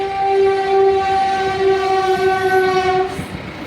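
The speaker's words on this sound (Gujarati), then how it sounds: "હરિદ્વારની ટ્રેન આવી ગઈ હવે" A train bound for Haridwar approaches a closed road level crossing, sounding one long, loud, steady horn blast over the rumble of the passing rail cars, close at hand.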